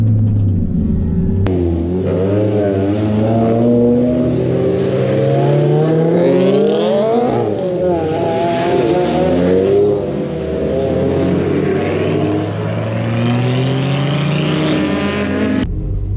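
A Mk2 Ford Focus ST driven on a race track, its engine loud and close from inside the car, revving up and down through gear changes with rising and falling tone for the whole stretch, no talk.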